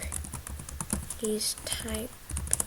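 Computer keyboard keys clatter in quick, uneven bursts while someone codes a Python game, with a voice talking over the close typing.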